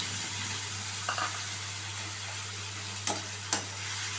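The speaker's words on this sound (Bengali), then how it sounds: "এরপরে আমি এখানে অ্যাড করে দিচ্ছি 1 চামচ মতন পেঁয়াজ আর টমেটো বাটা।" Onion and tomato paste goes into a pan of curry frying on a stove, with a steady soft sizzle and a few faint clinks of a spoon against the pan.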